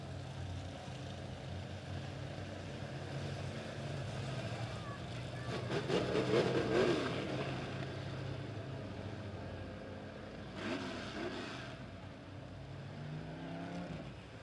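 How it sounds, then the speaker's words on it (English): Midwest Modifieds dirt track race cars at Springfield Raceway rumble and rev as they run a heat race, engine noise swelling and fading at a distance beneath an announcer's voice. "we'll turn them loose under the green flag for the final heat race for the Midwest Modifieds."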